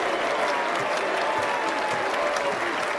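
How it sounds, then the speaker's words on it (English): Sustained applause from a large basketball arena crowd, dense and steady throughout, with a faint murmur of voices mixed in. "as the crowd applauding"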